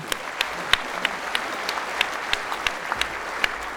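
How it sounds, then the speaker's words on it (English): Audience applause at a civic talk on Wellington's vision, a steady bed of clapping from a mid-sized crowd with a few distinct close hand claps popping out at irregular intervals. "give them a round of applause."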